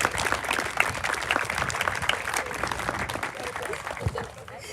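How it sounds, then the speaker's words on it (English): Crowd applause at a middle school groundbreaking ceremony, outdoors-style dense clapping with sharp individual claps, steady and then tapering off toward the end. "let's give them a round of applause"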